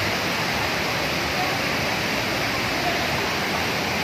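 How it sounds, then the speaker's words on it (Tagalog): Taytay Falls in Majayjay, Laguna, a waterfall heard close up as a loud, steady broadband roar of rushing, splashing water with no breaks. "dito kami ngayon sa Taytay Falls. Sinasabing Majayjay Falls."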